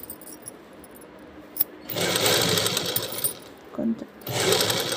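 A sewing machine stitching the round neck of a blouse runs in two bursts of rapid whirring, close and loud, with a quieter gap and a brief voice between them.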